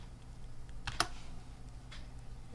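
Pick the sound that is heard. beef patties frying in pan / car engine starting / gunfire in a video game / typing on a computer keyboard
typing on a computer keyboard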